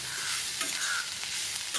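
Solapur chillies stir-fried in a little oil in a pan, giving a continuous close hiss and sizzle with soft scraping as they are tossed, steady and loud with no talk.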